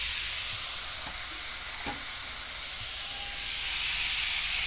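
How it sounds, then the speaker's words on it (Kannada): Grated guava frying in ghee for a sweet halwa, a steady close sizzle and hiss throughout with a few faint scrapes of a stirring spoon, no voices. "ಅದೇ ತುಪ್ಪದಲ್ಲಿ ನಾನು ತುರಿದಿರ್ತಕ್ಕಂಥ ಇದನ್ನು ಪೇರ್ಲೆಕಾಯಿನ ಹಾಕ್ಕೊತಾ ಇದ್ದೀನಿ. ಇದನ್ನು ಕೂಡ ತುಪ್ಪದಲ್ಲಿ ಚೆನ್ನಾಗಿ ಫ್ರೈ ಮಾಡಬೇಕು."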